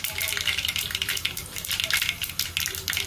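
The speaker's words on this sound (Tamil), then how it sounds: "வெந்தயமும் கொஞ்சம் பொரியட்டும்" Fenugreek seeds frying in hot oil with mustard seeds already popped, a steady crackling sizzle with small spitting pops, close and continuous.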